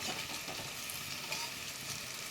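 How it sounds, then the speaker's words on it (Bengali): Banana flower kofta fritters sizzle steadily in hot oil, a continuous crackling hiss with no talking. "দিয়ে এগুলো সব আমি ভেজে তুলে নেব।"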